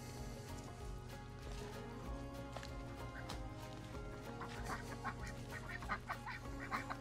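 Ducks quack and honk on a homestead farm with chickens nearby, several calls scattered over a steady low background hum, growing busier toward the end.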